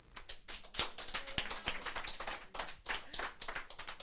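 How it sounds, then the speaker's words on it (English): An audience at a poetry night claps for a poet coming on stage. The clapping is fairly sparse and uneven, with individual sharp claps and taps standing out at moderate loudness. "please give a round of applause for Danelle Porche"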